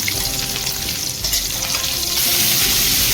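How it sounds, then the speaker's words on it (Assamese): Green chili and onion hit hot oil left over from frying fish, giving a loud, steady close-up sizzle that brightens and intensifies in the last second, with no voices. "মাছ ফ্ৰাই কৰা তেলতে এতিয়া মই কেঁচা জলকীয়া পিঁয়াজ দি দিছোঁ।"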